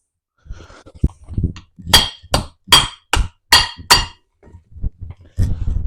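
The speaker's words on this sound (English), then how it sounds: "I'm going to cut the end of this bush off so I can knock it out with a hammer" A hammer strikes metal repeatedly while knocking out a brake bush on a Nova car, about seven sharp ringing clangs in an uneven rhythm, with quieter tapping and handling noise before and after.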